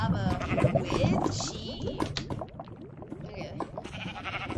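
Sheep bleating in the Minecraft video game, several wavering bleats mixed with a person talking and other game sounds, fairly close and lively.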